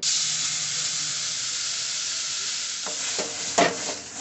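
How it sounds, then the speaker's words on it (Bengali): Palm fruit pulp in a hot wok gives off a loud, close, continuous hissing sizzle, and a few spatula scrapes stirring it come near the end. "তালের পাল্পটাকে দিয়ে আমি এইভাবে একটু কড়াইতে নাড়িয়ে নেব"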